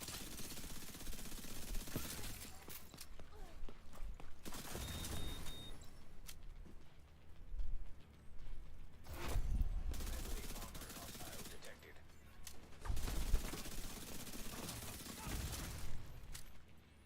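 Gunfire bursts and blasts from the video game Clair Obscur come in several loud waves of rapid shots with pauses between them, and a voice talks intermittently through the action.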